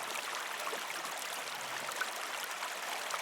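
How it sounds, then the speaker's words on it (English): Calm river or stream ambience from a sleep and focus sound app, a steady broadband rush of flowing water with no breaks, held at a soft, even level throughout. "let's say you like the sound of a river"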